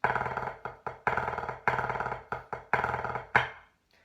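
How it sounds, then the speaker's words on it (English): A snare line playing 9-stroke rolls, each starting on the right hand and ending with a flam: a series of short, loud buzzing roll bursts separated by brief gaps, finishing on a sharp accented hit, with no talking. "We go into some 9-stroke rolls."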